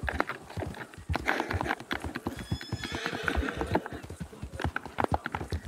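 Horse hooves clip-clopping in quick, uneven rhythm with a whinny partway through, from Red Dead Redemption 2 gameplay; close and fairly loud, steady throughout with no talk over it.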